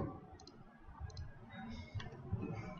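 Computer mouse clicks during file selection and upload in FileZilla FTP software, a few sharp light clicks in pairs spread over a few seconds against low room noise.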